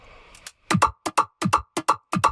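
A metallic, robotic-sounding vocoder-processed synth riff in short, choppy stabs, repeating in a bouncy rhythm with brief gaps between hits.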